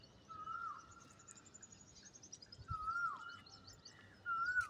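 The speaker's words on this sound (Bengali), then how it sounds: "চারিদিকে পাখির কূজন।" Faint birdsong drifts around a small rooftop garden of flowers, fruit and herb plants in the middle of Khulna city, with a few thin whistled calls repeating at a distance over a quiet background.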